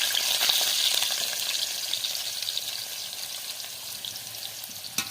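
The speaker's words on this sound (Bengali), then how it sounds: "এবার এটাকে ভালো করে ভেজে নেবো।" Cut green banana pieces frying in hot oil with cumin tempering, a loud continuous hiss and crackle that fades slightly over a few seconds, close up with a single small clink near the end and no voices.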